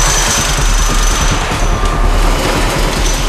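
Power tools tighten bolts on an offshore wind turbine tower, a loud, dense, continuous rattling hammer like a jackhammer running without a break.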